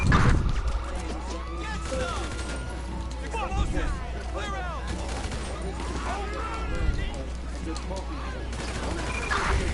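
Sustained gunfire rattles through a GTA V game scene, with bursts and volleys sounding over a continuous loud backdrop while police radio chatter and voices talk throughout.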